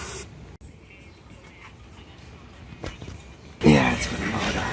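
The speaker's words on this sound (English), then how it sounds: "You're spraying the airbox?" Carb cleaner is sprayed into the airbox of a Yamaha XT225 motorcycle, a short loud hiss near the end after a quieter stretch, with people talking nearby.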